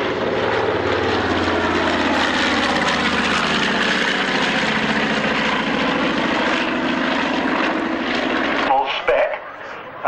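Propeller warplane fitted with 2600 radial engines flying at a 1997 military airshow at Old Warden, a loud sustained engine drone and propeller roar that stays close and steady, then briefly drops away near the end.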